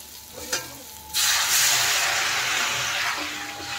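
Water poured into a pan of potatoes frying with spices for an eggplant and tengra fish curry sets off a sudden loud, broad hiss and sizzle. It holds steady and slowly eases, after a faint clink, with no voices.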